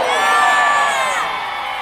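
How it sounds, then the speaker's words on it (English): A church congregation at a Nigerian gospel service shouts a loud, sustained collective amen, a dense crowd roar that peaks right away and slowly fades. "as you shouted that amen very well"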